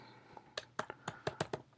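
Keys on a computer keyboard are typed in a quick, uneven run of about eight soft clicks, close and quiet, with no talking.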